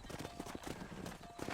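Horse hooves in Red Dead Redemption clip-clop in a quick, even rhythm, close and fairly loud, with no talking.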